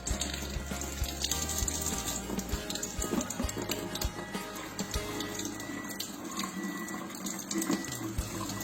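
A cleaning machine pours a steady stream of acidic water over a kitchen exhaust filter, a continuous splashing flow like a running tap, fairly faint and without talk.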